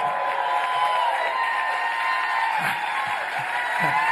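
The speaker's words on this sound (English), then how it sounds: "people stand and applaud at the start" Sustained applause from a large audience greeting Warren Buffett at age 87, a steady dense wash of clapping that holds evenly throughout without pause.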